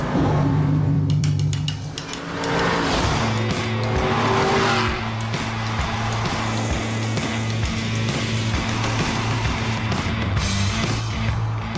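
An Aston Martin Roadster sports car is driven hard, its engine snarling up and down through rapid revs while tires squeal, loud and close throughout.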